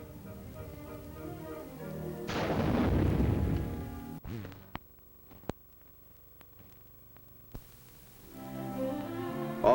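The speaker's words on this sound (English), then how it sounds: "Finally, the 57 recoilless rifle blasts away at the target." A 57 mm recoilless rifle fires at a target in Alaska with one loud, deep blast that rumbles and fades over about two seconds. Sparse sharp clicks and a low background murmur follow.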